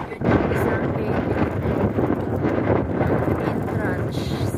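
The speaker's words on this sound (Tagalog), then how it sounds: "Lakas ng hangin." Strong wind buffets an outdoor microphone beside the Calax Expressway, a steady broadband rush that holds loud and close throughout with no pause.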